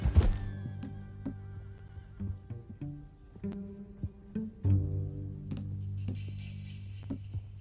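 A horse in Red Dead Redemption 2 gives a clear whinny, with hoof clip-clops and soft shuffling movement around it, quiet and fairly close, with no talking.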